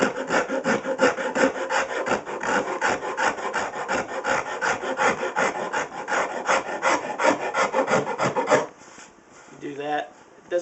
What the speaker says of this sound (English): take my rasp and soften those angles so I have a nice rounded profile